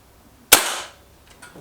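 Beeman 1357 air pistol fires a single light RS pellet, one sharp loud crack followed by a short fading ring, with quiet small knocks afterward.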